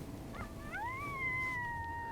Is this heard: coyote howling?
yes